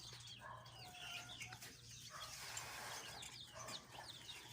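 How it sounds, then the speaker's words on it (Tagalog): Backyard chickens clucking and calling steadily at close range, with scattered higher bird chirps over a low constant hum and no talk. "Lagi-lagi mo na lang kasama yung mga chicken mo."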